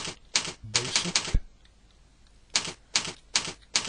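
Quick bursts of clicky keystrokes on a computer keyboard while a sheet name is typed in Microsoft Excel, two clusters separated by a short quiet gap, close and crisp with a brief word spoken.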